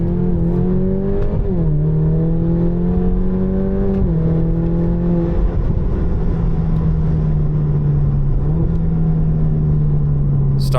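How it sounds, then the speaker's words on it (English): A tuned Stage 2 Alfa Romeo Giulia 2.0T engine drones steadily and climbs in pitch as it revs high, with a few brief shifts back down between pulls, loud and continuous. "I would like to point out how high this Giulia revs now"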